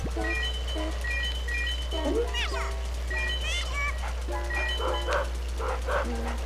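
Dog-like whimpers and yips from a ghost dog in the Luigi's Mansion video game sound repeatedly over a steady low hum and game music, with game sound effects mixed in.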